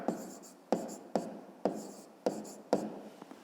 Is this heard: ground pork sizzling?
no